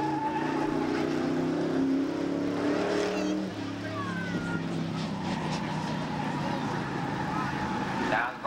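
1979 Chevy Camaro V8 race car roaring around a speedway oval, a loud engine drone that shifts pitch as it passes, with an announcer talking over it.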